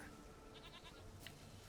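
A goat bleats in the video game The Witcher 3, one faint, brief bleat over a steady, quiet game background.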